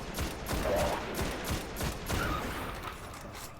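Rapid gunfire from a gun in the video game Destiny 2 comes as a fast series of sharp, loud shots that repeat steadily for a few seconds.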